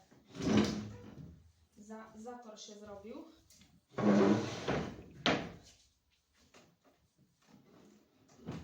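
Furniture and chairs are shoved across a tiled floor in loud scraping bursts with a knock or two between them, while someone talks over and between the noises.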